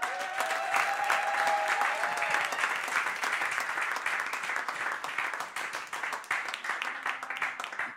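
A church congregation applauding, a dense and sustained wash of clapping from many hands that fills the room and slowly thins toward the end, with faint voices mixed in.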